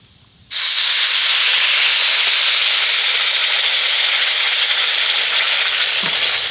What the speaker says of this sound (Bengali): ডালটাকে আমি ভেজে নিয়েছি এবার ডালের মধ্যে জল দিয়ে দেব